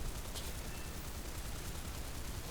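Twin 12mm aircraft cannons fire in a War Thunder dogfight against a Helldiver, a dense, steady rattle of rapid rounds running nonstop at moderate volume without pauses.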